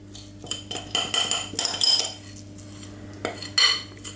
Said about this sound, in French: on va juste fouetter le tout pour en fait unifier donc l'appareil